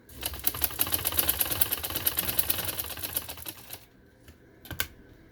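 A sewing machine stitching a neckline on golden fabric runs in a fast, steady rattling burst for about four seconds, then stops, leaving a few isolated clicks, close by and with no talking.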